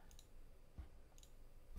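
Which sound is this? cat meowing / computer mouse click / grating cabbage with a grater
computer mouse click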